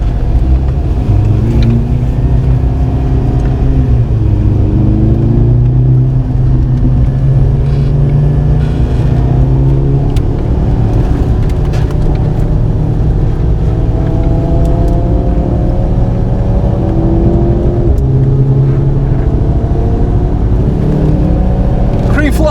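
A car laps a track on Hoosier TrackAttack Pro tires, its engine droning loudly and continuously from inside the cabin with rising and falling pitch as it accelerates through gears.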